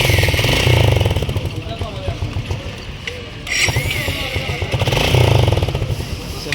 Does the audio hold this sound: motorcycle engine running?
yes